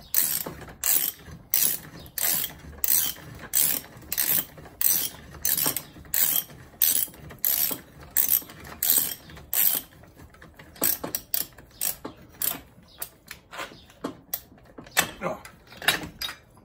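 Rapid ratchet clicking in bursts as a nut is loosened underneath a 1984 Corvette during a rebuild, steady cranking strokes for about ten seconds, then irregular clicks and metal knocks, close and clear.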